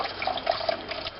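Homemade bone broth poured from a pot, a steady close splashing trickle of liquid running for a moment, moderately quiet with no talk.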